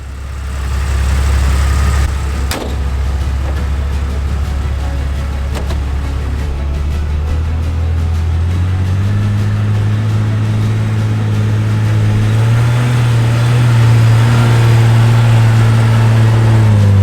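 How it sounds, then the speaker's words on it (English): The engine of a Jeep with a Hercules pop top conversion runs steadily, a loud, close, low rumble with a brief click early on, rising slightly in pitch toward the end. "Yeah, it's a Jeep."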